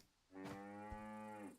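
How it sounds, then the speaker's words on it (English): Cows lowing on a farm in the video game Ancient Farm: one long, drawn-out moo that swells in and holds steady for over a second, clear and close, with a brief soft knock partway through and no talking. "These cows are fine. They're doing their thing."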